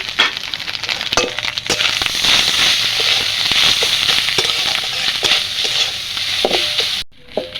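Grated coconut fries in hot oil with a loud, continuous close sizzle, dotted with sharp crackles and utensil clicks, cutting off abruptly near the end.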